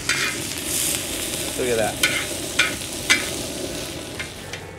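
Potatoes fry on a disco pan over a camp stove, a steady crackling sizzle with a few sharp scrape and clatter hits from a spatula; someone briefly speaks over it.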